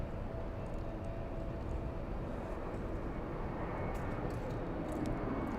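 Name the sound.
Frontier Airbus A319 arriving at LAX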